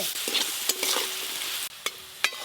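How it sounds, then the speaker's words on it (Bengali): Olive and potato pieces fry in a pan with a bright, hissing sizzle, broken by a few sharp scrapes and clinks of stirring. "জলপাই আলুগুলো খুব তাড়াতাড়ি ভাজা হয়ে গেল"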